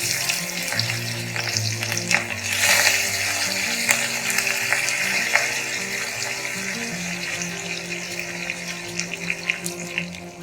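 Steady sizzling and crackling of curry leaves frying in hot ghee, close and continuous, with occasional sharper pops.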